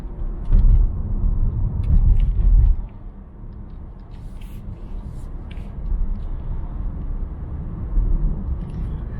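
An electric car rolls downhill under regenerative braking, giving a steady low road rumble and tire noise inside the cabin, a bit louder at first and then settling into an even hum.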